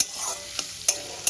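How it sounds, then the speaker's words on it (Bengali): Chopped onions sizzle steadily in hot oil over a raised gas flame, browning lightly, with three sharp spatula scrapes against the pan cutting through the fry over barely more than a second. "পেঁয়াজটাকে হালকা ব্রাউন করে ভেজে দেব।"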